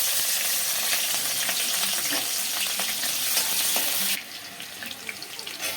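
Green chillies fry in two spoons of oil in a kadai, a dense, loud, continuous sizzle heard up close that drops abruptly to a softer crackle near the end.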